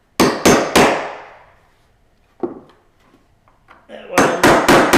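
A hammer drives nails down into heart pine floorboards: three quick ringing blows, one lone strike after a pause, then a fast burst of several more, all close and loud.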